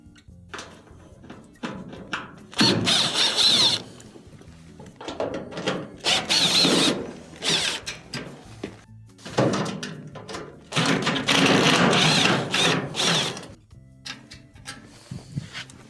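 A power drill backs out Phillips screws from the top panel of an LG dryer, with several loud whirring bursts separated by short pauses and clicks, close up and alone.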